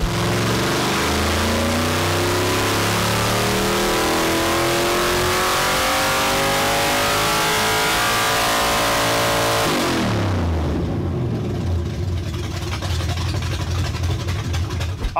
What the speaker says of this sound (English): Here for run two, Ted's gonna stretch us out just a little bit further in the RPM range.